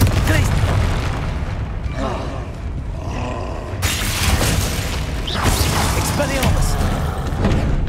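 Confringo blasting spell in Hogwarts Legacy, with loud booming explosions and crackling bursts repeating through a busy magical duel, a voice shouting over the din.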